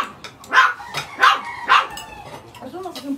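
A small dog barks three sharp times close by at roughly even intervals, followed by softer yips and whines, with voices nearby.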